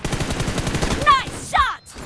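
Rapid gunfire rattles in a shooting video game, a dense burst of shots followed by a couple of sharp high-pitched ricochet or reload tones, loud and close.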